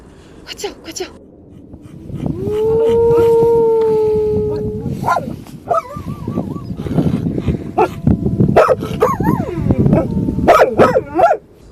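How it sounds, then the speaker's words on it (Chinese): A long, rising wolf howl carries over scattered barking and yips, with voices talking around it. "不是狗叫，是狼嚎啊"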